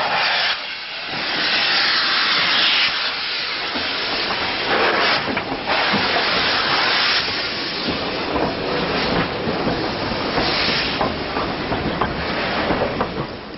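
Preserved LNER B12 steam locomotive 61572, a rebuilt express passenger engine, hisses loudly with a continuous steam roar, surging and easing over several seconds with a faint rhythmic rail clatter beneath.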